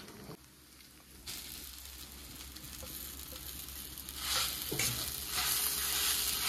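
Boiled, mashed potato is stirred into beetroot and carrot for a Bengali street-style vegetable chop, giving a steady soft stirring and scraping with a faint sizzle that grows slightly louder toward the end.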